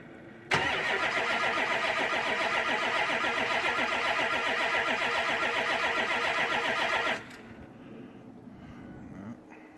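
A diesel truck engine whose fuel system seems gummed up is cranked after its glow plugs are cycled: a loud, even starter churn lasting several seconds without catching, then a sudden drop to a quieter fading whir.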